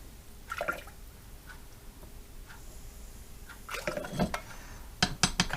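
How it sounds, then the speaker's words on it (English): Liquid from a beef stroganoff soup cooking in a clay pot is ladled into a measuring cup of water, giving a few close clinks and taps of utensil on crockery with soft splashing and pouring in between. "I'm going to scoop out some of the liquid from the soup and put it into the measuring cup with the water."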